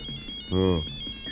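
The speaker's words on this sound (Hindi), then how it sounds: "बज रही है सर, अब फोन की घंटी ही" A short electronic phone ring sounds in an office scene from a Hindi romantic drama film, one rising melodic burst about a quarter second long, fairly loud, with a faint tonal hum running underneath.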